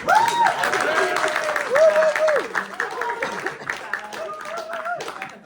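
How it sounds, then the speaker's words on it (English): A theatre audience at the Omnibus Theatre claps through a post-show talk, steady and fairly close, while voices rise and fall over the patter. "You can clap."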